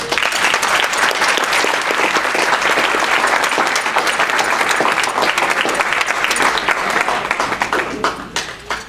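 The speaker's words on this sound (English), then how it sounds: "Let's give Mr. Gary Dumas another round of applause" Sustained, loud applause fills the room for speaker Gary Dumas: many hands clapping in a thick, continuous roar that holds steady before tapering slightly at the very end.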